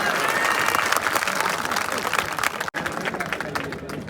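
An audience at a lecture claps in steady, dense applause that goes on throughout, loud and close, with a brief dropout near the end and some voices mixed in.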